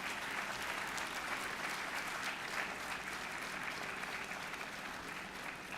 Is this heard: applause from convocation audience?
yes